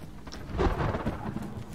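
Thunder rumbling with steady rain in the survival video game DayZ, a moderate, continuous rolling wash of low rumble and hiss with a swell near the middle, no voices.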